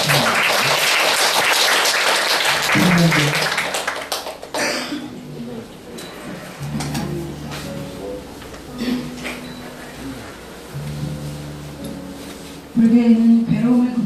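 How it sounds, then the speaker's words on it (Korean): An audience at a Buddhist book launch ceremony bursts into welcoming applause for a speaker, with dense clapping for about four seconds before it fades. A voice then talks over sparse sounds, and a brief burst of clapping returns near the end. "큰 박수로, 환영의 박수로 맞이해주셨습니다."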